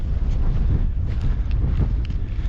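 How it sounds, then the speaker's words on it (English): Wind gusting across the microphone on a hill walk in the Scottish Highlands, a continuous loud low rumbling buffet with no pauses. "Going to be a bit breezy now as well, which is nice."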